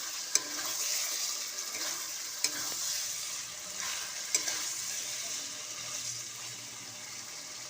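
Marinated chicken fries in spiced oil while being stirred, a soft steady sizzle punctuated by a few sharp utensil taps against the pan, with no talking.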